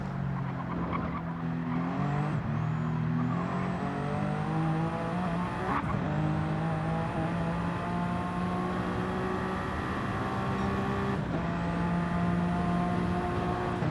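Race cars in a racing game at the Nürburgring, a loud, steady engine roar with rising pitch through the gears and sharp drops at each shift, running continuously for the whole stretch.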